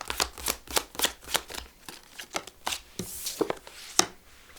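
A deck of tarot cards is shuffled by hand, making a series of crisp, rhythmic riffling flicks. The bursts repeat about twice a second, close and clear, with no talk.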